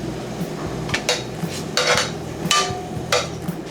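A tortilla is turned in a pan while cooking beef enchiladas, giving repeated clanks and scrapes of metal on the pan at a brisk, irregular pace, close by, over a low steady hiss.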